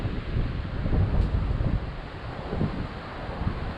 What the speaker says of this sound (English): the wind is just absolutely pumping up here at the top of these mountains